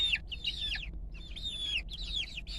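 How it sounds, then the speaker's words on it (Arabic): Arab breed chickens feeding on vegetables in a garden in summer, giving repeated high chirping calls and soft clucks in bursts, close by, with a low background rumble and no talk. "دجاج العرب يحب ياكل"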